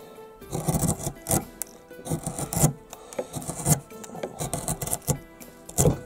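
A radius chisel cuts into Amur cork tree wood during hand carving, making close, repeated scraping and shaving strokes in uneven bursts with short gaps, heard alone.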